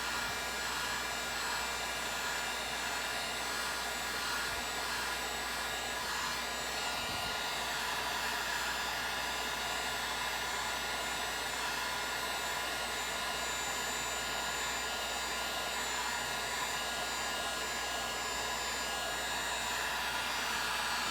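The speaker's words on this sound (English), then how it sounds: "Take my little heat gun that I got from Harbor Freight. And turn it on." A Harbor Freight heat gun blowing hot air onto red and orange epoxy in a cup for a beach tumbler, a steady close whooshing roar that runs unbroken throughout.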